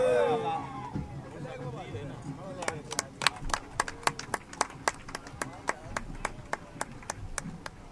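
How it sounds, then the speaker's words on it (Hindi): Crowd at a BJP rally in Haryana clapping to welcome political leaders, a steady run of sharp claps in a roughly even rhythm starting after a few seconds of murmuring voices and background noise. "आप सबसे निवेदन है, एक बार तालियां बजाकर सभी नेताओं का स्वागत करेंगे"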